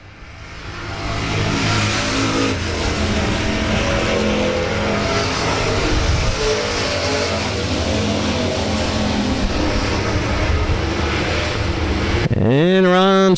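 Race car engines roar continuously at South Texas Speedway during a race, a loud, dense blend of revving and passing cars, with a commentator talking over them.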